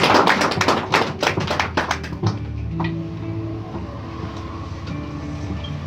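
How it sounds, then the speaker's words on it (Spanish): Scattered clapping from a church congregation, a burst of sharp claps in the first two seconds that thins out, followed by a low murmuring hall ambience. "Dale un aplauso al Señor ahí."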